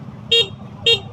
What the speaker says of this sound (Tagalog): busina check